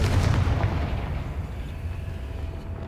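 A Confringo fire spell bursts in Hogwarts Legacy: a loud, booming blast opens the moment, then a rumbling tail slowly fades without fully dying away.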